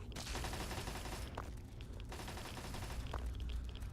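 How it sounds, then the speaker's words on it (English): Automated turrets firing in Fallout 3, rapid sustained bursts of gunfire rattling steadily with brief pauses between volleys, fairly distant and quiet. "Turrets are doing good work,"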